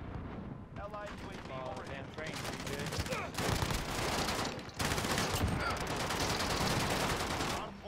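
Gunfire in Call of Duty Modern Warfare, with rapid automatic bursts and sustained volleys of shots, loud and close, mixed with game effects and a voice talking over the opening stretch.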